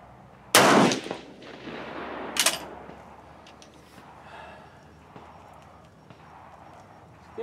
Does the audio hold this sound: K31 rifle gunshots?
yes